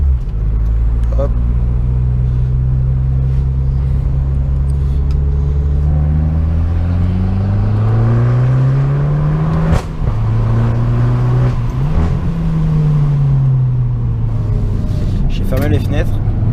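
Abarth car with a 165 hp engine pulling away in first gear, its low engine tone rising and falling through revs, close and steady, with people talking over it inside the cabin.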